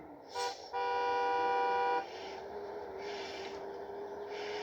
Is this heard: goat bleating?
no